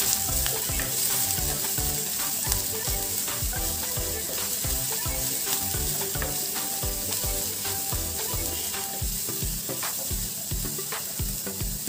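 Finely chopped ginger and two or three chopped green chillies sauté in a hot pan, giving a steady close sizzle with occasional stirring scrapes. A tonal musical backing plays underneath throughout.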